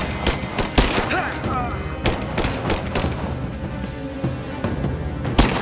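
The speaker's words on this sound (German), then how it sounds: "Ich werde beschossen!" Repeated gunshots ring out during a firefight in Rise of the Tomb Raider. Sharp cracks come at irregular intervals over continuous combat noise, and a voice calls out between them.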